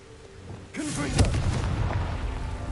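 A Confringo blasting spell going off in Hogwarts Legacy, a sudden booming burst with a sharp crack near the start, then a rumbling tail, fairly faint and under light game ambience with a voice.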